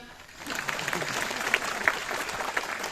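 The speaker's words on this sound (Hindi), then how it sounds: "जोर से तालियां।" A crowd at a talk in Lucknow breaks into loud, sustained applause that swells after a quiet start, with a few sharp whistles or shouts over it.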